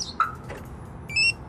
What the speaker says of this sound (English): Lock the car.